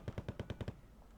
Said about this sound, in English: He's just taking down the vehicle with the Browning.